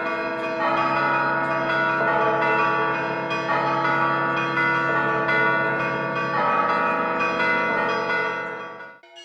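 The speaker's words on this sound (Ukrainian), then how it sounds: "великий дзвін створює ритм. На нього накладається малюнок дзвонів середнього розміру. А все це покриває трель маленьких" Large, medium and small bronze church bells ring together, the deep bell setting a steady rhythm under a pattern of mid-sized bells and a fast trill of small ones, loud and continuous until a sudden stop.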